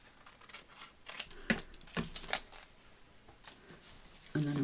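Scissors cut through sturdy folded paper for a junk journal craft, several crisp snips in quick succession with quiet rustling between, close and soft, with no talking.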